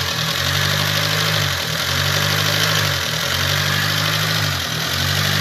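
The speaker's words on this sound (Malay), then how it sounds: "untuk kereta ni dia ada masalah dengan idling dia" Proton Wira MMC car engine idling roughly, a loud steady mid-pitched drone with a low pulsing throb that dips and surges every second or so, with no voices over it.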